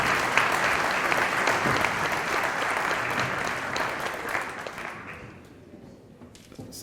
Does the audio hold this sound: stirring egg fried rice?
no